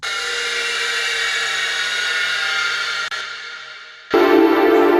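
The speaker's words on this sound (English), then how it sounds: "And then I have an angle grinder like effect under that as like an impact." A harsh, sustained angle-grinder-like whine used as an impact effect in an electronic music production runs steadily, cuts out briefly, then bursts back louder and brighter at the end.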